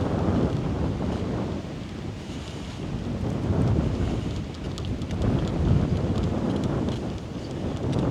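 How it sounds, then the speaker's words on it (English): Strong gusting wind buffets the microphone on an open golf course, a loud, continuous low roar that swells and eases in uneven gusts, with no voices. "the wind is just gusting so much"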